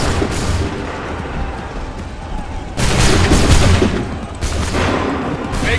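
Musket volleys in Assassin's Creed 3 Remastered: dense bursts of massed gunfire, the loudest crash arriving around the middle and further rolling volleys after it, over a constant battlefield din.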